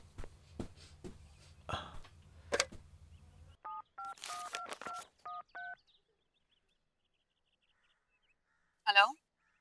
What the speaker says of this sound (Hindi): मैं आपका फोन यूज कर सकता हूँ प्लीज?